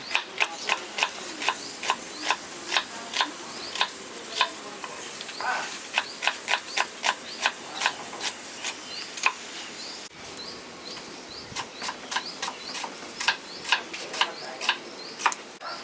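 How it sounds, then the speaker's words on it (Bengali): Three onions are being finely chopped with a knife on a board, a quick and even series of crisp taps. The strokes come close and regular, with a short pause midway before the rhythm resumes, and no one speaks. "পেঁয়াজটা কুচিয়ে নিচ্ছি"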